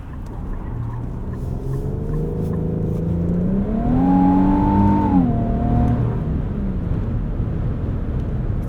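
2025 Infiniti QX80 Autograph, a large three-row SUV, driving in sport mode: a steady cabin engine hum that rises in pitch as it accelerates midway, then eases back, heard alone without talk.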